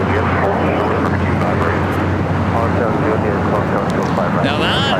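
A C-17 military transport aircraft rolls along the ground at LAX, its steady, loud engine roar filling the air with a constant low drone, while a voice talks over it.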